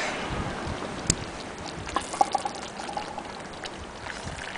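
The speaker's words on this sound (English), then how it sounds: "Wind's still blowing hard." Hard wind blowing outdoors, a steady rushing bluster with buffeting gusts and a few faint clicks and clinks under it.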